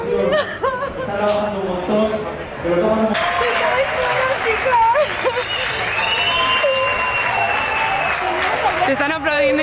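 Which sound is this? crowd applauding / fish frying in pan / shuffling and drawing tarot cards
crowd applauding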